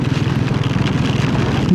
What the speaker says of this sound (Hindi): बारिश और साथ में एकदम स्ट्रॉन्ग विंड्स.